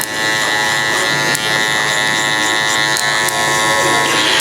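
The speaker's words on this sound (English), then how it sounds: "try not to put a lot of pressure on the clipper" An electric hair clipper buzzes steadily and close while cutting a child's fade haircut, a constant high electric hum with light brushing scrapes as it moves through the hair.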